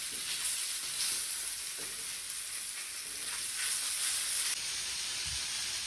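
Food frying in a pan, a continuous loud sizzle and hiss of hot oil with occasional soft stirring scrapes, steady throughout.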